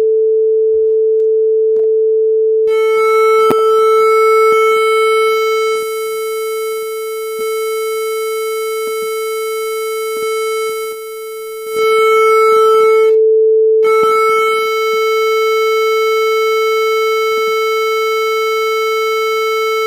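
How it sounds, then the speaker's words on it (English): Sine wave distorted by a Web Audio API waveshaper: a steady loud pure tone that gains harsh buzzy overtones in stretches, with brief gaps and clicks where the shaping changes. "you should have been able to hear that the sine wave starts changing into something more and more"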